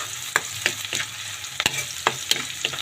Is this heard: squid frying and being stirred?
yes